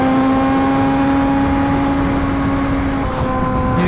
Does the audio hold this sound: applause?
no